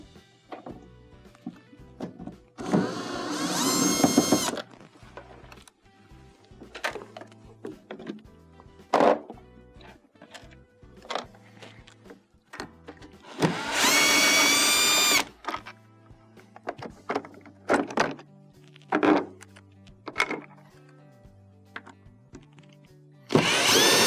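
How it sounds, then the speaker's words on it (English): A power screwdriver whirs in several bursts as Phillips screws are removed from the top interface cover of a GE refrigerator, with clunks and scattered taps of the screws and cover between bursts. "To remove your covers, we must first remove the 4 Phillips screws that hold them on."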